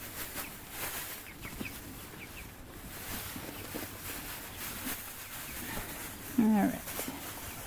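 Backyard chickens cluck softly while pecking at kohlrabi scraps, with scattered low clucks under a person's voice. A louder cluck comes near the end.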